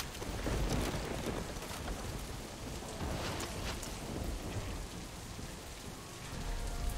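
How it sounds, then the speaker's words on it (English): A red storm in the Red Solstice 2 video game: steady, heavy rain pours across the surface with gusts of wind and a low rumble of distant thunder, loud and continuous with no talk. "A red storm is forming on top of you."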